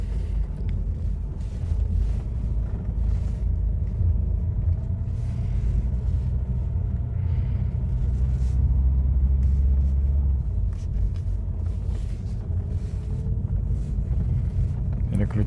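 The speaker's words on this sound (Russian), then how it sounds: "Прокатимся, как едет она на новом сцепе." A Honda Fit with a freshly installed original clutch drives along steadily, its low engine and road rumble continuous throughout with some wind buffeting, and no voices.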